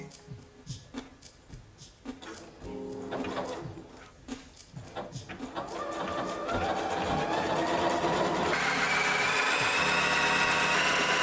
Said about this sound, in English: So let's sew it.